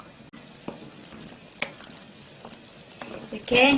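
Perilla seed and glutinous rice porridge cooking in a pot, soft bubbling with scattered scrapes and taps of a spoon stirring, fairly quiet and close, a louder burst of handling at the end, with a brief spoken word.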